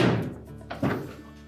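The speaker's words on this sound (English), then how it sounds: "Now close the door up" A single solid thunk of a Whirlpool washing machine door shutting close by, followed by a softer latch knock, then quiet.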